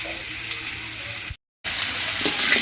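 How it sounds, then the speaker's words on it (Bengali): Large chunks of elephant foot yam fry in oil with salt, producing a steady crackling sizzle, close and loud, that cuts out briefly to silence before resuming with bright spattering. "দশ মিনিট ধরে লবণ হলুদ দিয়ে সমস্ত কিছু দিয়ে ওলটাকে কষিয়ে দেবো।"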